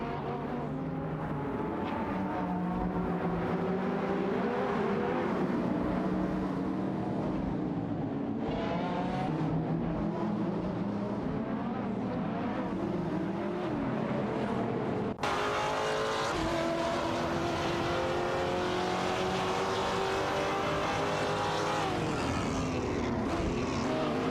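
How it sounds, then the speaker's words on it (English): Race cars in an AI racing video game, including a Vauxhall Astra GTC VXR and a BMW, roar continuously with high, whining engine notes that rise and fall through gear changes, loud and unbroken with no talk. "Amy and Amaljit are locked in a tight battle for the 22nd position, showcasing their skills in a Vauxhall Astra GTC VXR and a BMW M512 respectively."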